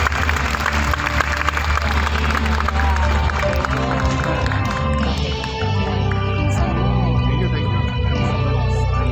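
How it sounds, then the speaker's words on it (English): Dense, loud applause from a conference audience fills the space for the whole stretch, steady and broad, with crowd noise mixed in and no clear voice on top. "Let us give a round of applause"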